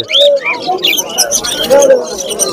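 Caged birds at the Uluberia pet market, including golden birds sold in pairs, giving close chirps, tweets and cooing calls in quick succession while someone talks over them.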